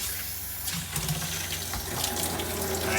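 Water runs steadily from a faucet valve on an RV while it is being winterized with the water pump on, a continuous close rushing hiss for the whole stretch.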